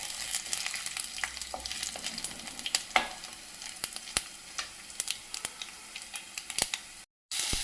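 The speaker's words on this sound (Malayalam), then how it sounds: "കടുക് പൊട്ടണം ഉള്ളി മൂത്തു കടുക് പൊട്ടണം" Mustard seeds crackling and onion frying in oil, scattered sharp pops over a soft, steady sizzle, with a short silent gap near the end.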